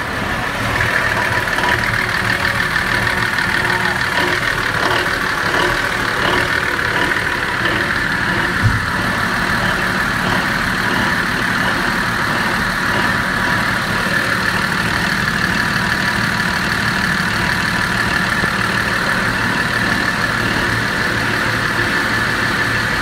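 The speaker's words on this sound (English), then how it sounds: "Starting the engines." The engines of an Allseas 92 expedition yacht idle after start-up with a continuous, steady drone and rumble, loud and close, running alone without talk for over twenty seconds.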